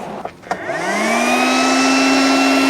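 A KKSevens magnetic induction heater, switched on to heat a bolt, starts with a couple of clicks, then rises into a steady, loud electrical whine that climbs in pitch and holds, with no talk.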